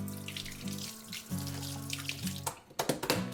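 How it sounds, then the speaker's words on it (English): Tap water runs into a kitchen sink while cheese-covered hands are washed, a steady close rush with splashing bursts toward the end. "I'm going to wash my hands real fast because now I've got cheese all over them"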